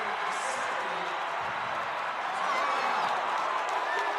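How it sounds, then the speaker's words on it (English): A Delaware high school basketball crowd at a state semifinal roars in a steady wash of cheering and clapping, loud and sustained throughout with no distinct voices standing out. "The Delaware crowd loving it."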